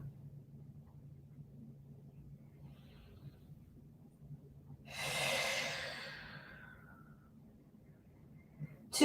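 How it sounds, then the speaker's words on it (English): A single long, deep exhale rushes out during a yoga stretch, loud and close, with quiet low room hum before and after it. "Two more deep breaths here."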